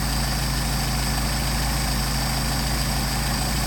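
A Mercedes 190SL engine fitted with a Solex carburetor idles at about 700 RPM, giving a steady, even low drone with a constant mechanical hum, close and loud, with no voices.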